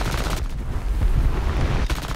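Aircraft machine guns firing in the combat flight game War Thunder, an I-15 M-22 fighter in an air arcade battle, a loud dense continuous rattle of gunfire with brief breaks, heard alone.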